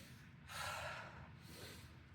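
One deep breath during a Hun Yuan qi gong class, a long airy inhale drawn through the nose and then a softer release, close and quiet, with no talking.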